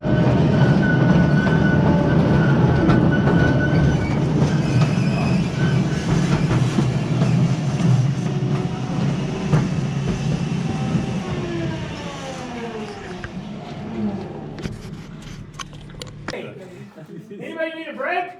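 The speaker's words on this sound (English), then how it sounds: "It's an interesting, fun little train ride" A small mine tour train at the Strataca salt mine rumbles and clatters along its track, a steady loud rolling noise that gradually fades away toward the end.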